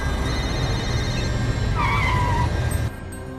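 A car engine hums steadily, then a brief tire squeal rises as the vehicle brakes, and the engine noise drops off as it comes to a stop.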